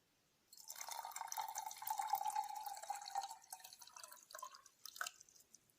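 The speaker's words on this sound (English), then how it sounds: "Take some amount of sand in a glass. Add a little amount of water to it." Water trickles and drips steadily into a glass of sand for a few seconds, with a light splashing, filling sound and no talking.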